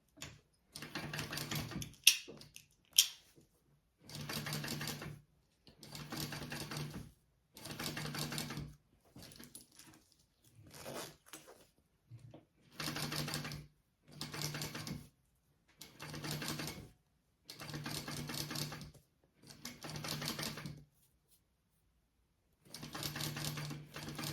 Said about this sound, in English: I am going to sew that at a little bit more than a 1/8 inch seam allowance